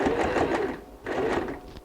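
Sewing machine stitching a recycled denim bag, a rapid mechanical whirring run in two bursts with a short pause between, close and fairly quiet, with no talking.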